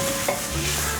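Fresh shiitake mushrooms and carrots stir-fried in a pan for vegan Japanese-style fried udon, a steady close sizzle with faint scraping of the turner throughout one brief stretch.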